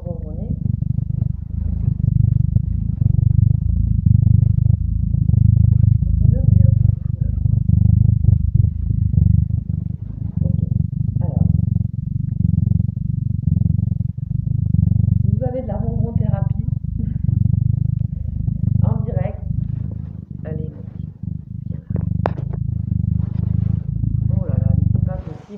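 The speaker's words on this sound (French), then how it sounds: "Vous allez l'entendre ronronner." A black cat purrs right against the microphone, a loud, deep, continuous rumbling that pulses with each breath for the whole stretch, while a voice talks softly over it at times.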